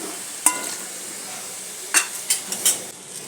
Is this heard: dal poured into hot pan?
yes